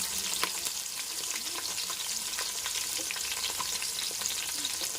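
Onions and green chillies frying in hot oil with cinnamon and cloves for a vegetable dum biryani, a steady soft sizzle with light intermittent stirring crackles, close and continuous, no speech.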